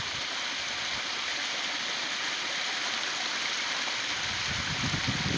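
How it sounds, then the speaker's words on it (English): A small waterfall flows beside a barn, a continuous broad rushing and splashing heard close by at steady volume with no voices. "We've got our own waterfall."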